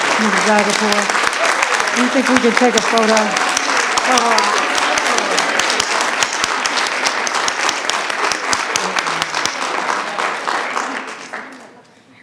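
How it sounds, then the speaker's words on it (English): A school board meeting audience applauds the players, a loud, full round of clapping that tapers off near the end as a nearby voice speaks over it. "Another round of applause for these fantastic players"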